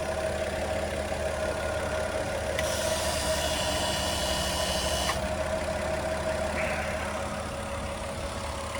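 Toyota Aristo with a 3.0-litre 2JZ-GTE twin-turbo inline-six running at a steady idle, a constant close engine hum with no change in revs throughout, no talk.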